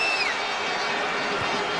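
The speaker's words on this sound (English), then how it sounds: "3 added minutes, that's what the crowd are responding to." Football crowd at a Wales versus England World Cup 2006 qualifier reacting to three added minutes, a broad steady roar of massed voices with a brief whistle near the start, sustained and even throughout.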